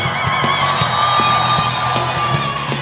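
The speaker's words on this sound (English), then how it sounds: "Let me hear you scream. Make some noise." A crowd at the opening and orientation event whoops, yells and cheers in a loud, sustained roar that fills the space. No one speaks over it.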